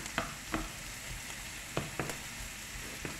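Tomatoes frying with bitter gourd (ampalaya) in a pan give a soft steady sizzle, broken by several sharp clacks of a utensil stirring against the pan.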